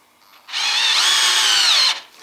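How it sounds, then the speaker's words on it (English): A Makita CXT FD06Z drill driver drives a screw into wood in one loud, close whine of about a second and a half, which cuts off abruptly and is followed by a small click. "It's got plenty of power to sink that screw down into that piece of wood."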